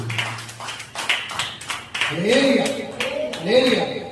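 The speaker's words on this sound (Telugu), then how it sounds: "గట్టిగా చప్పట్లు కొడుతూ దేవుడు" A church congregation claps in a quick, steady rhythm, sharp and fairly close, while a voice speaks or chants over the second half.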